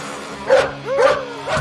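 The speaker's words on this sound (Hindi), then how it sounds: "अबे कुत्ते क्यों भौंक रहा है?" A dog barks from inside a car, three sharp, close barks in quick succession with short whiny tails, loud and alone.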